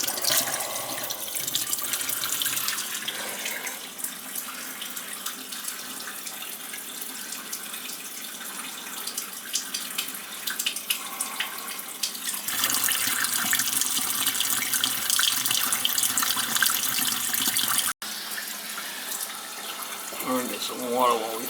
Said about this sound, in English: Just to run some water down there while we're running the snake